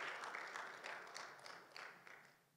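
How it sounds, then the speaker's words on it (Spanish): Applause in a church congregation during a Bible class on the parables of Jesus, a fairly faint, steady patter of many hands that gradually fades toward the end. "Fuertes y aplausos."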